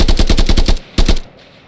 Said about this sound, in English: you can hold it down for auto fire